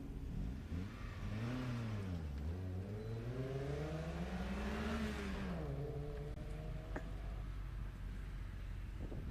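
A Toyota MR2 running an autocross solo course at Daytona sweeps through a bend, its engine note dipping and then climbing as it accelerates onto the straight, heard from a moderate distance and growing louder.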